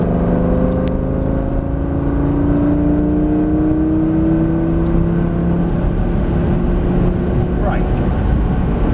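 Lamborghini Gallardo accelerating on the Prestwold Hall track, its engine rising in a loud, steady climbing pitch from inside the car, with brief talk over it.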